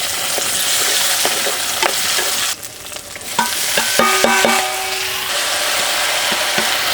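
Cumin seeds and green chilies fry in hot oil for a Telugu dibba rotte breakfast, a loud steady sizzle running throughout with scraping spoon strokes and a few sharp metallic clicks midway, no voices.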